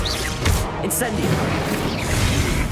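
Incendio fire spell from Hogwarts Legacy, a loud burst of whooshing flame with thudding low impacts and crackle, with a sharp hit near the start and rough rumbling texture continuing after.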